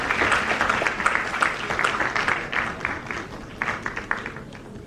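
A hall audience at a moot court valedictory ceremony applauds the winners, a sustained wash of many hands clapping at moderate volume with slight swells, lasting about five seconds.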